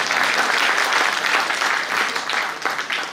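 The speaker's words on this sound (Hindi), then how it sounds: "बीच बीच में ताली बजा रहे" Listeners at an annual gathering of an intellectuals' seminar clap together in a dense, loud, continuous round of applause that carries on steadily before tapering slightly at the end.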